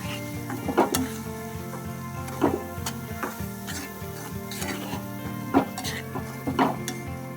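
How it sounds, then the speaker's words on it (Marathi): Semolina roasting with oil or ghee in a kadhai, with several distinct scrapes and clinks of a spoon against the pan over a steady low background hum, close and moderately loud, with no talking. "रवा कडेमध्ये घालून त्यावरती तेल ॲड करायचं आहे किंवा तूप ॲड करायचं आहे आणि परतून घ्यायचं आहे"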